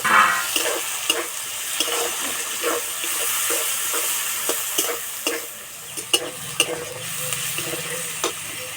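Chopped tomatoes go into a hot pan of frying onion greens for a Bengali jackfruit kalia, followed by a steady sizzle and rhythmic scraping stir strokes, close and clear with no talk.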